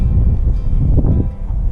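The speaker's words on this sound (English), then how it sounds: "Windy, windy." Strong wind buffets the microphone on a high mountain trail on the Everest Base Camp trek, a steady low roar with gusting swells throughout, close and loud with no one talking.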